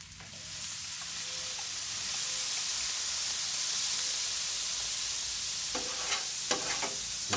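A metal scraper works across a hot 22-inch Blackstone griddle during cleaning, a steady sizzling hiss with scattered scrapes and sharper clicks toward the end, no talking.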